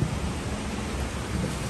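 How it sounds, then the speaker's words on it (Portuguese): Dense, steady rain with a low rumbling undertone of thunder, a constant loud wash of noise with no voices. "Abre o portão, a gente tá na chuva."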